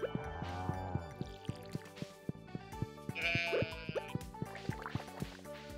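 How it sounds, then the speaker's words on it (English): Dog in the farming game Stardew Valley giving a sheep-like baa, a short bleating call heard over bouncy, rhythmic game music with plinking notes. "Did that dog just baa?"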